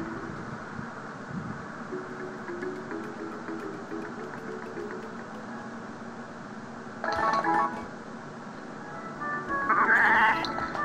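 Harvest Moon: A Wonderful Life game audio with a steady background bed, then two brief bursts of bleating near the end, a sheep-like cry standing out over the mix.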